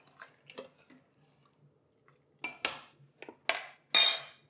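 A spoon stirs uncooked orzo into broth inside an Instant Pot, giving scattered metallic scrapes and clinks against the pot, sparse at first and then louder and more frequent near the end, with no talking.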